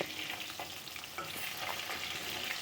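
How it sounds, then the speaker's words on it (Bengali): A dense, loud crackling sizzle of mixed river fish frying in hot oil continues throughout, with small popping bursts and no speech. "এখানে মাছগুলো ভাজা হয়ে গিয়েছে"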